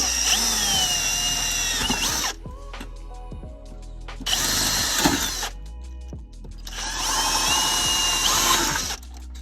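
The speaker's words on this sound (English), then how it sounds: "you guys can see those 3 holes. That's what we got to drill." A power drill runs in three bursts of a few seconds each, drilling pilot holes for a dual battery install on a 2021 Land Cruiser 200 Series, whining at high speed with short pauses and faint clatter between.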